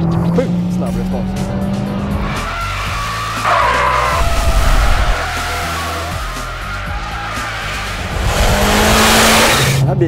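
A Mitsubishi Lancer Evolution X is driven hard on a track, with a loud engine rising and falling through the gears and tires squealing, while people talk over it inside the car.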